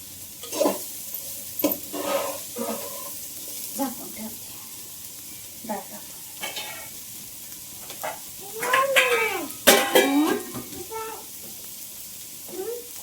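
A fried mixture stirred in a pan, with scattered scrapes and a gentle sizzle, under intermittent talk.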